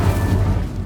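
Incendio fire spell cast in the Hogwarts Legacy video game, a short low whooshing boom with a rumbling body, loud and close.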